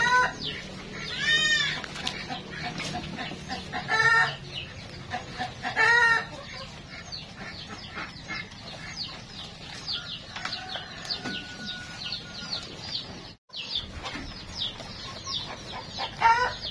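Free-range chickens of upgraded and local breeds cluck and squabble loudly and close while being fed sweet potato on a farm, with repeated squawks and a rooster crow amid a busy, continuous flock chorus.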